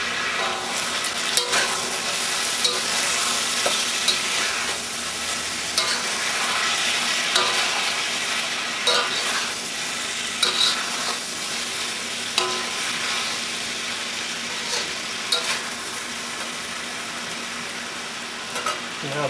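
Broccoli and cauliflower stir-fried in a wok give a loud, steady sizzle for the whole stretch, with scraping and clattering stirs popping up throughout and no talking.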